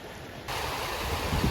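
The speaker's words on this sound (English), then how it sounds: "There's the waterfall." Rushing water from a waterfall in Switzerland, reached on a flat hike, gives a steady broadband roar that swells louder partway through the brief moment.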